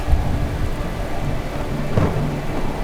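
A thunderstorm pours heavy rain in a steady, dense hiss, with a deep roll of thunder swelling near the end; no voices.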